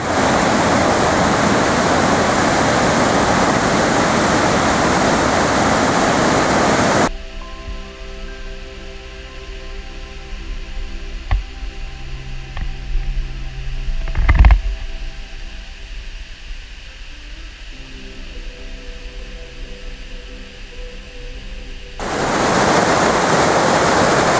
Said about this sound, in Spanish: Cascada enorme y cola de caballo preciosa.